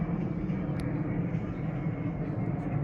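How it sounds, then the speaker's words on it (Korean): Airplanes pass overhead one after another outdoors, a steady broad low roar that fills the whole clip at moderate distance with no talk. "비행기가 연달아"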